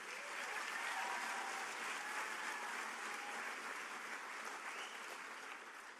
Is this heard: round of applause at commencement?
yes